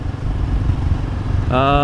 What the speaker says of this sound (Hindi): अर्बन जंगल में टेस्ट कर रहा हूँ इस बाइक को